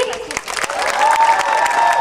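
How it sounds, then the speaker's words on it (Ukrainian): Crowd clapping and cheering at an outdoor concert on a square in Ternopil, with a rock choir, a loud uneven burst of applause swelling toward the end, with a sustained tone running beneath. "будь ласка, оплески нашій зоринці"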